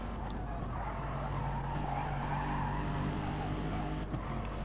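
Race cars drone down the Mulsanne Straight at Le Mans in a racing video game, with a sustained, even engine roar and steady pitched whine holding at a constant level the whole time.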